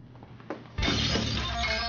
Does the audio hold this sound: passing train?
no